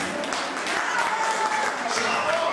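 Guests applaud at a christening celebration, a steady wash of clapping from a crowd indoors, with a voice briefly audible beneath it and faint music or tones in the background.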